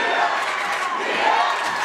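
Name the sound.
basketball crowd cheering and firing up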